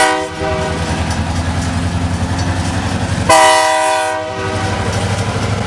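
A BNSF switcher locomotive pulling hopper cars at a feed plant in Sumas, a loud steady engine rumble with rhythmic wheel clatter, then a blast of the horn partway through before the rumble continues.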